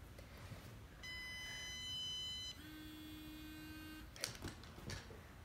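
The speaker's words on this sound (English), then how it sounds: "It will first vibrate, it will first beep, and then vibrate." A Pro Pet Works anti-bark dog collar gives a shrill electronic beep lasting about a second and a half, then a lower, steady buzzing vibration, followed by a few faint clicks and bumps.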